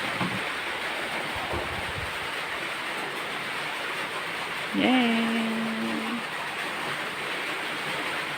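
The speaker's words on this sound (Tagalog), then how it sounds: "Sinasawag ko kasi yung ulan." Steady rain pours down in a dense, even hiss that fills the whole stretch while the water is being caught for household use; midway a voice briefly cheers over it.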